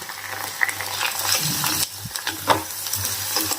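Garlic-ginger paste hitting hot oil with onion in a pan, a close, loud sizzle with stirring scrapes and a few clinks, no talking.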